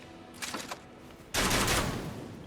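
An Elden Ring ballista firing bolts gives two distinct bursts: a short rattling volley first, then a louder, denser release that lingers. Both are mid-distance and stand alone with no talk.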